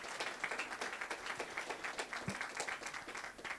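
Scattered hands clap outdoors at a ribbon cutting for the Lofts at Lincoln Park, the applause fairly faint and sustained, with crisp individual claps throughout.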